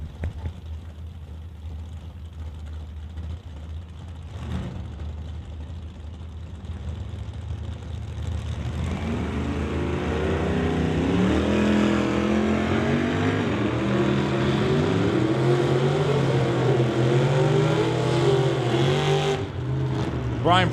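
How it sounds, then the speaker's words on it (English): A drag racing launch at the strip, a Chevelle among the cars, with an engine roar that swells from a low drone into a loud, sustained, rising howl and holds steady to the end. "going up against Brian Prescott's Chevelle from Abbotsford"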